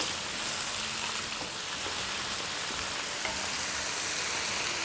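Ginger and garlic paste fries in oil in a pot, giving a steady, dense sizzle with soft crackle that holds at an even level throughout, with no talking.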